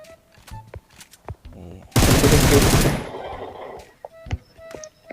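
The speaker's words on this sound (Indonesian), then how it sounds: "Senjata Bapak liar kali suaranya Pak." Gunfire in the mobile battle-royale game PUBG Mobile: a dense, loud one-second burst of rapid automatic shots in the middle, surrounded by quieter game sounds, clicks and brief voice chatter.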